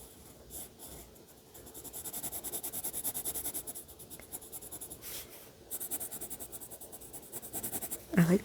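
Colored pencil lays a first layer of dark chocolate brown while shading a drawing of a Yule log cake, making a close, steady scratchy rasp of repeated strokes with brief pauses and a louder scrape near the end.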